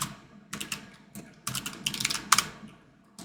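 Quick bursts of typing clatter on a computer keyboard at close range, short runs of keystrokes with brief pauses between them, no voices.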